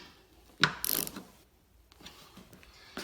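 A hand ratchet snugs up the tail light screws on a Grand Caravan, giving a sharp click and then a short burst of rapid ratcheting, followed by a few faint clicks, close up and alone.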